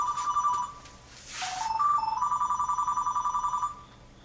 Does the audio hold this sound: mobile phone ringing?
yes